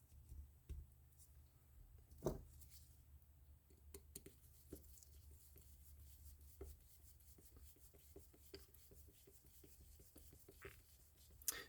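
Screws being fitted back into the plastic housing of an Abu Garcia Premier CP2F spinning reel, with faint small clicks and scraping taps scattered over a quiet hum, very soft and close.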